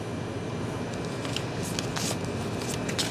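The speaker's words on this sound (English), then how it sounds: "As I go ahead and, you know, shuffle the cards" Soft riffling and shuffling of tarot cards, quiet and close, with a few brighter flicks as the deck is mixed.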